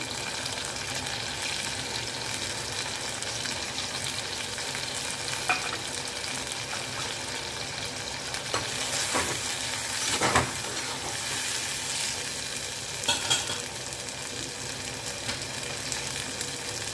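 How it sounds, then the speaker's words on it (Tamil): Onions, garlic and tomato sautéing in a pan for a Tamil kollu venthaya podi kuzhambu, a steady close sizzle with occasional stirring scrapes and clinks, no talking. "வெங்காயம் வதங்கிச்சுங்க வெங்காயம் பூண்டு எல்லாம் வந்துச்சு இப்போ நல்லா தக்காளி சேர்க்கலாம்"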